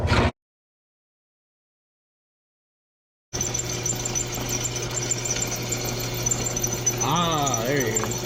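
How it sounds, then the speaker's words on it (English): A drill press bores with a drill bit in a kart-building workshop, a steady loud mechanical whine and rumble after a short gap, with a rising and falling squeal as the bit cuts near the end. "That drill bit is ripping."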